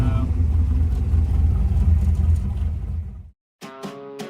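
A Chevrolet Malibu engine pulls hard through second gear, a loud, close, rising rumble that cuts off abruptly, followed by a brief silence and then a voice.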